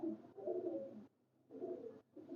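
Pigeons cooing close by: two soft, throaty, rolling coos separated by a short quiet gap, with no voices over them.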